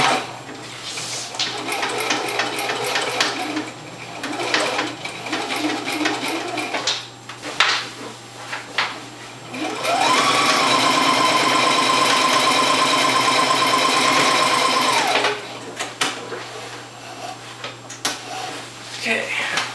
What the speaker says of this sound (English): I'm going to just make a single straight stitch.